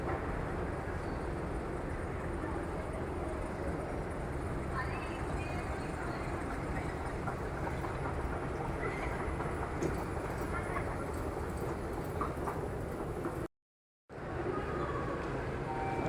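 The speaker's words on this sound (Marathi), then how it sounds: "ट्रेन आलेली आहे ट्रेनने लोक बाहेर पडली आणि हा आतमध्ये ट्रेन आहे ट्रेन निघालेली आहे" Pune Metro train at an underground station, a steady low rumble of the train arriving and pulling out under continuous station noise, with a short dropout near the end.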